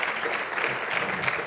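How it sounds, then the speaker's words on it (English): A summit audience applauds the leadership of a brain-research organization at a keynote, giving a dense, continuous round of clapping from many people, fairly loud and unbroken. "Give the leadership of the One Mind organization a round of applause"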